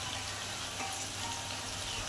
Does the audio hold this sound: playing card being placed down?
no